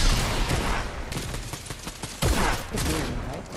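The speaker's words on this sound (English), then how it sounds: "I don't know why he shot with the sniper." Gunfire crackles through a battle royale video game match, with sniper rifle shots among several loud, closely spaced reports and bursts that carry on with no talking.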